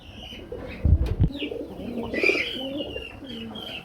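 Pigeons coo in soft, repeated throaty calls at close range, with a brief burst of wing flapping near the start, recorded at a pigeon seller's.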